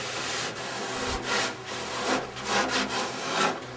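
Sanding on a balsawood surfboard, rough strokes rubbing back and forth across the soft wood in an uneven rhythm, close and moderately loud with no voices.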